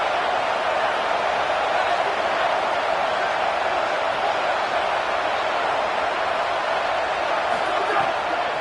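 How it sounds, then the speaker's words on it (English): A football stadium crowd roars steadily for the defense, a dense, loud, continuous wall of cheering and noise with no clear breaks. "Listen to this crowd just shaking the girders of this place trying to help their defense."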